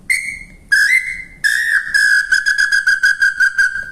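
Wooden birdcall whistle carved from reused exotic wood, blown close up in a steady high tone, then a series of rapid pulsing chirps, loud with no talking.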